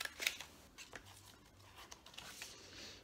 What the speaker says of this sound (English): And then I'm just going to take my scissors and I'm just going to cut this out